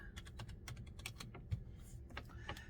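Rapid typing on a computer keyboard: a quick, steady run of close, distinct key clicks lasting a few seconds, with no one speaking.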